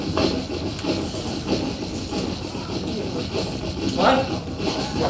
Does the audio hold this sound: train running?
yes